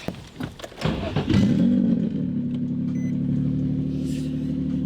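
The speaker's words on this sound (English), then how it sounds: "Nothing's better than driving stretched 225s on a 400 horsepower laggy boosted Z." Turbocharged 400-horsepower Nissan Z engine on stretched 225 tires revving up then settling into a steady low drone, with a few rattles and road noise at the start, close and fairly loud.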